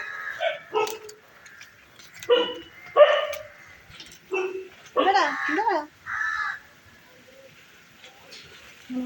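A dog barks in a series of short, sharp barks with irregular gaps, fairly close and clear over a quiet background.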